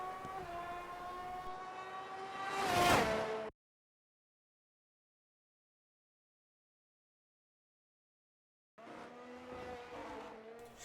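A Ferrari SF23 race car at Circuit of the Americas screams past crossing the line at speed, engine whine rising to a loud peak then cut off, followed later by another distant engine passing.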